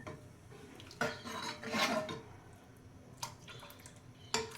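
Water pours and splashes into a metal pot in a few short bursts, with light clinks of cookware in a quiet kitchen.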